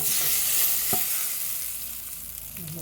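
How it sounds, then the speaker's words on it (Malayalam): Hot tempering poured into coconut chutney after the gas is switched off sizzles loudly and steadily, fading slightly over a few seconds with a brief clink near the start. "ഗ്യാസ് ഓഫാക്കി ഇനി വറവ് ഇതിലേക്ക് ഒഴിച്ചു കൊടുക്കുകയാണേ"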